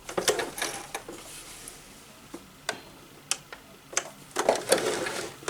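Sewing machine back stitching at a mark on a drawstring bag, heard as sparse, irregular clicking ticks and short mechanical bursts, fairly quiet and close, with no talk.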